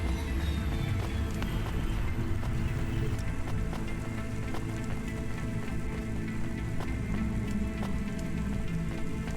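Steady rain pours continuously in the Cloudpunk video game, a dense hiss with scattered drips and a low ambient city hum, with no pauses throughout.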